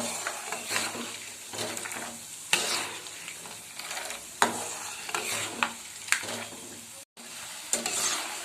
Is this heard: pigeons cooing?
no